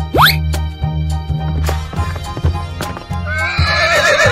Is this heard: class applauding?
no